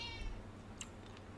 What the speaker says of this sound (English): No kitty. You've had enough greenies.